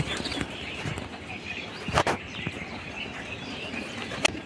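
A racing pigeon in training takes off from a loft, with a quick burst of flapping wings midway and another brief flap near the end over faint outdoor ambience.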